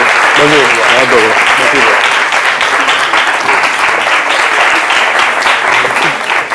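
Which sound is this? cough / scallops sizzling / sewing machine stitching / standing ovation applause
standing ovation applause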